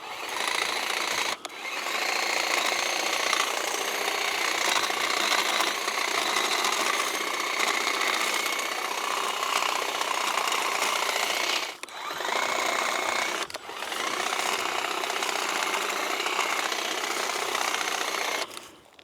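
A WORKPROX 20V cordless hedge trimmer chews through blackberry bushes with a steady, loud buzzing drone that runs almost continuously, broken by a few brief pauses where the blade stops.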